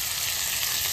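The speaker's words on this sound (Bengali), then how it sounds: "জল দিয়ে দেবো।" Water poured into a hot pan holding chilli-and-nigella-tempered oil for steamed fish raises a loud, continuous sizzling hiss for a brief moment.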